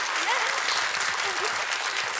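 A television game show studio audience breaks into steady applause, a dense, even wash of clapping hands sustained throughout without pause.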